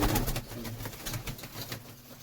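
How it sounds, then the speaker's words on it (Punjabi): Pigeons coo repeatedly in soft, rhythmic rounds, close by, with a low murmuring quality and no talking. "ਬਹੁਤ ਸੋਹਣੇ ਕਬੂਤਰ ਨੇ ਬਾਈ"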